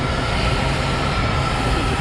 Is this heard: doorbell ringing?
no